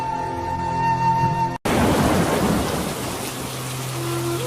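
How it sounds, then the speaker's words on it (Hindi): Heavy rain pours in a dense, steady roar with thunder rumbling low through it, following a brief cut from a different tonal sound, with no voices. "बारिश का मौसम शुरू हो चुका था, जोरों से बारिश हो रही थी"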